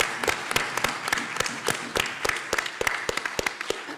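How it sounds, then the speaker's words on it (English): A small audience claps for a speaker at an archives panel event, scattered individual hand claps ringing out irregularly and fairly close, thin rather than a dense roar. "Please give Joshua Myers a huge round of applause."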